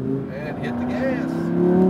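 A Lamborghini Huracan accelerates out of a tight corner on a race track, its engine note rising steadily and growing louder, with an instructor's voice talking over it.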